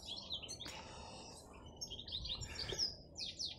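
Canaries and other songbirds chirp in an aviary, with bright overlapping tweets and trills scattered throughout over a soft, steady background.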